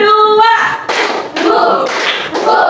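A classroom of students claps hands together in rhythm to a teacher's count: a voice opens, then several loud group claps follow in spaced bursts.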